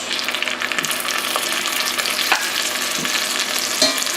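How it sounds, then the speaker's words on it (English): Beef sizzling and frying in a heavy enameled cast iron Dutch oven, a steady loud crackle with occasional stirring scrapes and pops, no voices. "Just going to start cooking down the beef."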